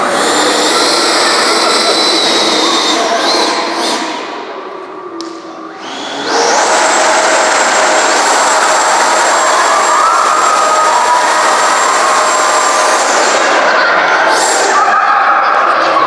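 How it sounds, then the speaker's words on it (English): Model aircraft propeller engine at full thrust at a model show, a loud close buzzing roar that dips briefly, then surges back to a sustained high-pitched whine. "you'll get an idea of what the propeller, what the thrust is like. You hear them going full blast."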